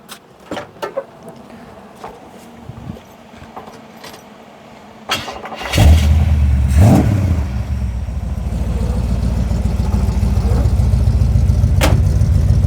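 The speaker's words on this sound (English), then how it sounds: "I'll start it up, see what it sounds like." A car engine cranks and catches after a few clicks and taps, then settles into a loud, deep rumbling idle with a brief rev.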